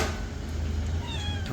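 A friendly cat on a rest stop in Pai, Thailand gives a brief, soft meow near the end, over a steady low background hum.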